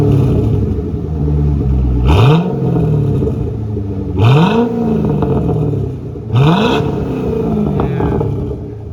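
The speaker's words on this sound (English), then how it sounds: "Rev it a little bit?" A C6 Corvette Grand Sport fitted with an SLP Loudmouth II catback exhaust, revved three times in quick, evenly spaced blips from a close, loud idle rumble, each rising sharply and falling back.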